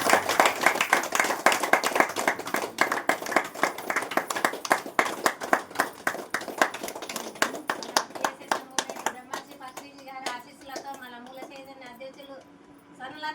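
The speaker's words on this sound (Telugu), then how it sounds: "అందరికీ గట్టిగా చప్పట్లతో వాళ్ళకు మంచి కృతజ్ఞతలు తెలియజేస్తున్నాం" A crowd claps loudly and fast in unison at a meditation class gathering, the rhythmic clapping slowing and fading before voices take over at the end.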